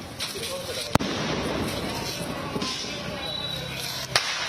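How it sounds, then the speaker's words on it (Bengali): Fireworks during Diwali night in Delhi crack out as two sharp, loud bangs over a dense, hissing background din of distant bursts. "রাতভর রং বেরঙের আতসবাজি পুড়িয়ে এভাবেই আলোর উৎসব দীপাবলি উদযাপন করেছে দিল্লিবাসী"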